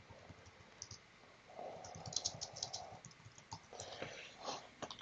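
Quiet typing on a computer keyboard, a steady patter of soft key clicks with a few brief pauses, close to the microphone and without any talking.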